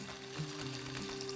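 Hamburg steak patties of ground meat sizzle in olive oil in a pan over medium heat, a steady close frying hiss with no voices.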